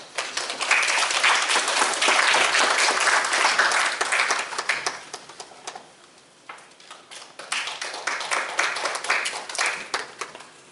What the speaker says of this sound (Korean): 박수로 맞이해 주시길 바랍니다.